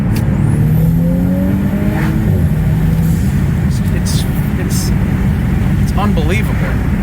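An Audi B9 S4 turbo engine while driving with the windows down: a loud, steady engine drone and road rumble with rising tonal whines, heard up close inside the car.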